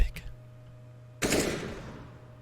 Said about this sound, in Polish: Oj, poszedł strzał z kałacha.